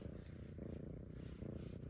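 A cat purrs steadily up close, a low continuous rumble with a gentle pulsing rhythm throughout.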